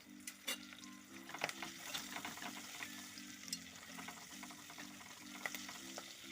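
Spices fry in a pan for a northern-style Kerala fish curry, giving a steady, fairly quiet sizzle broken by scraping stirs and small clicks throughout, with nobody speaking.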